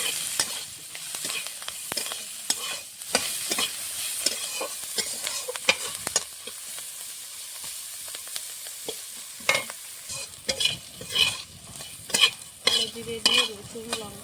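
Prawn shells frying in mustard oil with cumin, garlic and chili: a steady close sizzle with repeated scraping stir strokes and utensil clinks, growing busier toward the end, no voices.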